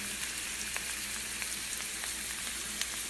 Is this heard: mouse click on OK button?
no